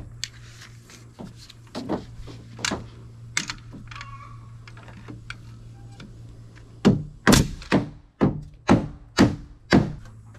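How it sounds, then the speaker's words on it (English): A nail gun fires into wooden boards being built into rafters for a walk-in cooler. Scattered sharp thunks are followed by a loud, rapid series of about six close shots. "Give me the nail gun."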